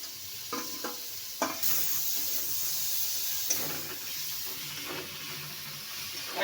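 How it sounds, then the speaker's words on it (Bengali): Spices fry with ginger, garlic and onion paste and chopped tomato in a pan, giving a steady, close sizzle and hiss. A few soft stirring scrapes rise above it. "সব মশলাকে একসঙ্গে কষে নিয়েছে।"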